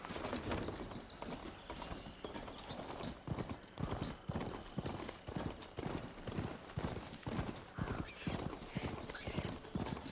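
Machine mounts ridden in Horizon Forbidden West give a steady, rapid clip-clop of metallic hooves with mechanical rattling, continuous and close throughout.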